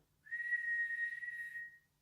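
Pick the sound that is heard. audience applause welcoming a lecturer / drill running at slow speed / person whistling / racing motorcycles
person whistling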